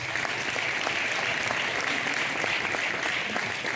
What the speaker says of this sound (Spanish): Un aplauso para su alcalde, Luis Miguel Núñez.